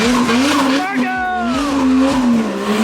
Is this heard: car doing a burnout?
yes